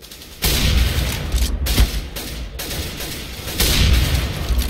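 Loud booming gunshots and bursts of gunfire in a Counter-Strike-style video game on the Cache map, including AWP sniper shots, crackle in quick succession, dense and continuous with little pause.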